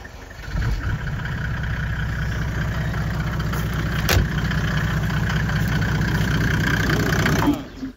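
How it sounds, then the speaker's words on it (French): A car with a burnt-out alternator struggling to hold its idle, a loud, close, rough low engine rumble running steadily for several seconds before cutting off near the end. "on a une voiture qui ne veut plus maintenir le ralenti"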